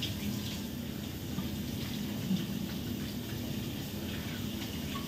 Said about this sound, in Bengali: হাতটা ধুয়ে নিই, পুরো হাত হলুদ হলুদ হয়ে গেল, বন্ধ হয়ে গেল মাছের, সাবান দিয়ে দিই